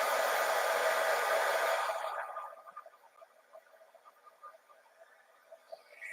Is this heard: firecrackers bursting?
no